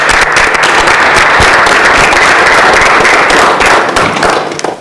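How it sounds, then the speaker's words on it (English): A large audience applauds at a nonprofit, business and government partnership event, a loud, dense and continuous wash of clapping that holds steady for nearly five seconds before starting to taper at the end. "give all of them a round of applause too"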